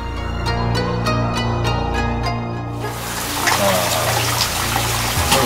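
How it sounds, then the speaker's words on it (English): A natural water fountain at Kamigamo Shrine in Kyoto, Japan, starts running partway through after low droning tones, then pours and splashes steadily to the end, close and fairly loud. "Very natural water fountain."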